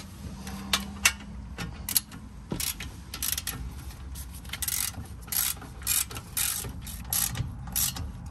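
A ratchet tightens wheel hub bolts on a Mazda CX-5 during a front wheel bearing replacement, with bursts of rapid clicking repeated in short strokes, close and fairly quiet.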